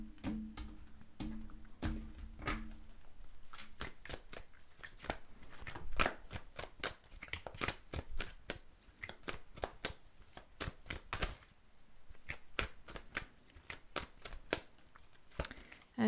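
Tarot cards being shuffled by hand, soft papery riffles and taps in irregular bursts, close and quiet, with a brief faint murmur near the start.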